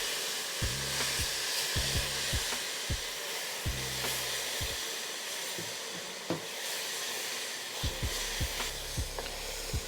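Vegetables being spooned into a hot chicken and sausage gumbo roux with the heat off, giving a steady broadband sizzle broken by repeated soft scraping and clinking spoon strokes, close and fairly quiet, with no talking.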